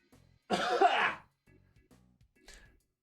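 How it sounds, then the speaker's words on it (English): A single harsh cough bursts out, loud and close, followed by a few faint murmuring sounds and a soft breathy noise. "I apologize for the off-camera cough."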